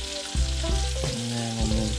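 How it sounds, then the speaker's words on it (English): Butter bubbling in a pan gives a close, steady sizzle and crackle throughout, with a few soft knocks of a utensil, as heat is lowered while cooking Hawaiian menpachi fish with shoyu. "lower down the heat so it starts to simmer"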